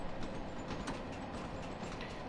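A Bakerloo line train running on the Isle of Wight route in the video game Train Sim World 2: steady rolling rumble with rhythmic wheel clatter over rail joints, moderately loud and continuous, with no talk.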